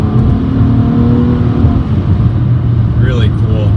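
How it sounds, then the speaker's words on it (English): A 2014 Nissan Maxima SV engine downshifts while driving, its steady drone shifting pitch as the revs change, with road noise throughout and a brief rise near the end. "You can hear that downshift."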